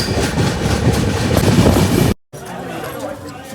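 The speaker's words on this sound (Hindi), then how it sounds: "12:30 पे ट्रेन आई है, 12:32 पे जो है निकल रही है यहाँ से।" A passenger train pulling out of Alwar Junction station in India, heard from on board as a loud, steady rumble with rattling carriages, then a brief cut to a quieter, calmer rolling sound.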